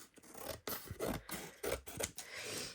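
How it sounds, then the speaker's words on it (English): Big scissors snipping through paper while trimming the large pieces off a Christmas tree treat box, a run of close, crisp rasping cuts in an irregular rhythm with brief pauses between strokes. "I went round and cut all the big bits off with my big scissors."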